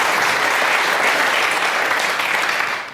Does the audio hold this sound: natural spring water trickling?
no